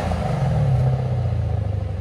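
A 2015 Lexus RC F 5.0L V8 with Valvetronics exhaust valves closed revs briefly, a steady low rumbling drone that swells slightly and settles, fairly loud and close with no talk.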